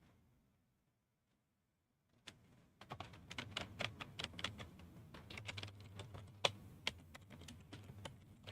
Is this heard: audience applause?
no